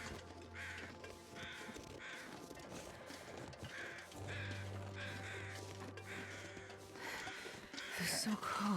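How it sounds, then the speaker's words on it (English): Crows cawing in the snowy wilderness of the survival video game The Long Dark, repeated harsh calls in bursts over a steady wind-like ambience and a low game drone, with a louder call near the end. "Oh, there's some crows."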